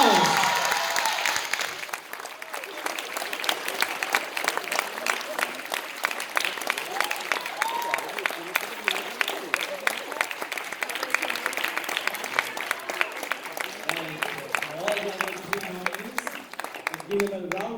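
An audience at a school inter-house English drama competition applauds an award winner, with long sustained clapping from a full hall that starts loud and carries on evenly for many seconds, and voices faintly mixed in.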